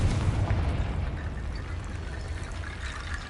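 Confringo blasting spell cast in a Hogwarts video game: a low, rumbling explosive roar that surges at once and rolls on steadily for several seconds at moderate volume, with no talk.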